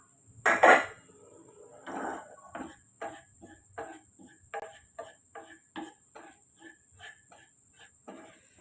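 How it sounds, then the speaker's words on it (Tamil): Ground chili and turmeric powder dry-roasting in a pan for a chicken fry, heard as a series of regular scraping and tapping strokes of a utensil against the pan, close and moderately loud, with no talk. "இப்போ இந்த பொடியெல்லாம் நம்ம லைட்டாக வறுத்து எடுத்துக்கிறலாம்"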